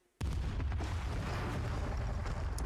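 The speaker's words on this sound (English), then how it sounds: "The explosions rip through the hall with a force unlike anything I've ever felt before." Explosions in the video game ProtoViolence burst in with a sudden loud blast and roll on as a dense, sustained rumble with crackling debris throughout.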